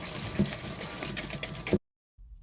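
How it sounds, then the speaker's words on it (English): A whisk froths a mixture for coconut dream bars, giving a busy, steady whirring clatter close by that stops abruptly, leaving near silence with a faint rustle. "Ooh, looks like Renee's got some whisking to do"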